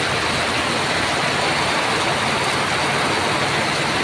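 Floodwater rushes during heavy rain in Malagamot, Panacan, Davao City, a loud, unbroken broadband roar that fills the whole stretch without pause.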